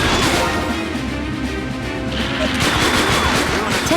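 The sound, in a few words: gunfire in Police 24/7 light gun shooter video game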